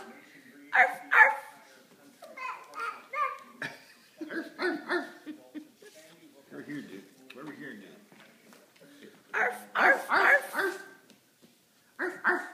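A dog barks among lively household talk, a few yips and woofs coming in short bursts with a voice imitating the barking.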